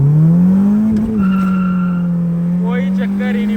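A K24-engined Honda Accord race car launches hard with a loud, sustained tire skid and a steady engine drone. Faint voices come in near the end.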